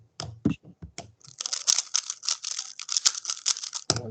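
Laptop keys are pressed in a fast, uneven flurry of light clicks, near and clear, after a few heavier taps and thumps, ending in another muffled knock.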